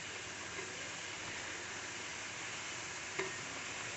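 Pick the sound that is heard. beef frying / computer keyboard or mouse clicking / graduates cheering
beef frying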